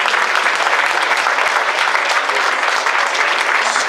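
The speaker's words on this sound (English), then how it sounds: "Give a great big round of applause." Wedding guests break into sustained applause, a dense, loud wash of clapping from a crowd that holds steady without a pause and drowns out any talk.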